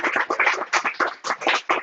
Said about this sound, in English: we also want to give you a round of applause